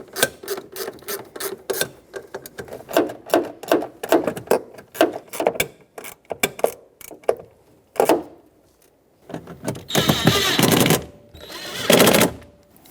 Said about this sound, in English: Tighten up all the screws now that they're all started.